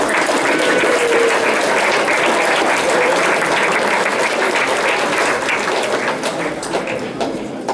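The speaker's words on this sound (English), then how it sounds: "So round of applause please for the players." Sustained, loud applause from the room at a youth football awards night for the Stafford Rangers under-16 squad, dense clapping holding steady before easing slightly at the end.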